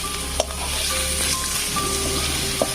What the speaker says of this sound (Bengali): এদিকে সরষের তেল গরম হয়ে গেছে, দিয়ে দিচ্ছি পেঁয়াজটি। এদিকে পেঁয়াজটি সুন্দর করে ভেজে নিচ্ছি।